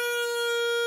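A bagpipe practice chanter squeaks with its finger holes not fully covered, giving one brief, steady, shrill, reedy tone under a second long, close and alone.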